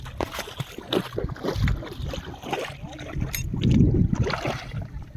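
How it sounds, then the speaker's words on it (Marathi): A small rowboat moves across open water on a shell-gathering outing, with water washing against the hull and steady wind noise throughout. A few faint voices sit in the background. "हे बघा जिनू होडी घेऊन येत आहे."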